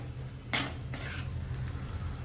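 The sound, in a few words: spice masala roasting in oil in a pan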